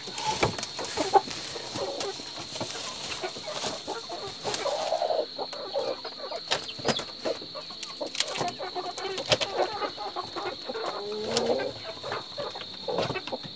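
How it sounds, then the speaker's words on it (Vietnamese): A brooding hen on a Vietnamese farm clucks repeatedly in short, irregular bursts, close and moderately loud, over a constant high-pitched background whine and scattered rustling. "À, khi có một con gà đang ấp nhỉ?"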